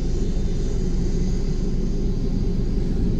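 Airbus A330 airliner arriving at Fort Lauderdale airport, heard as a steady, loud, close low rumble of jet engines that holds without a break, with no voices over it.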